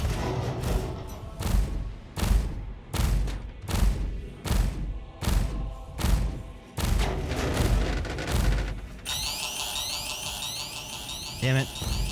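Spaceship in Star Citizen taking heavy fire during a dogfight, a loud rhythmic run of repeated impact bursts followed by a blaring alarm-like tone, with a voice talking over it.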